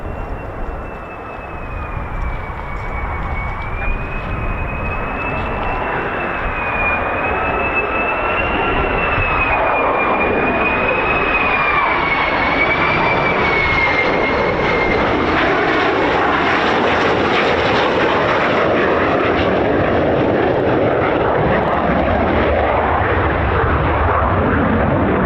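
A US Air Force F-15 or F-35 fighter jet lands at RAF Lakenheath, its loud, sustained engine roar and high whine filling the whole stretch, shifting slowly in pitch as the aircraft passes close by.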